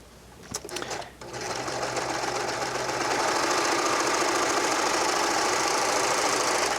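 A Baby Lock Victory serger stitching a finished seam edge, starting after a few clicks and short bursts, then running as a loud, steady, fast mechanical whirr close by that builds slightly and holds, without talking.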